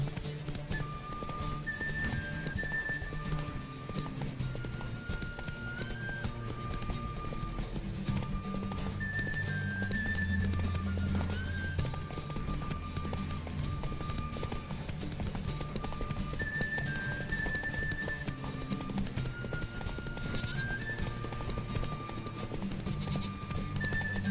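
Clip-clop of a horse galloping in The Witcher 3 horse race in Velen, a video game, a steady hoofbeat rhythm running throughout under looping game music, with an occasional whinny.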